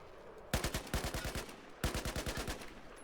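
Video game rifle (QBZ) fires two rapid bursts of sharp, punchy shots, about seven rounds each, separated by a short pause, moderately loud and with no talking.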